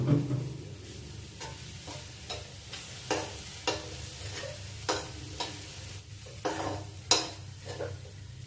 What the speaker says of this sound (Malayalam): നമുക്ക് ഒന്ന് നന്നായിട്ട് മിക്സ് ചെയ്തെടുക്കാം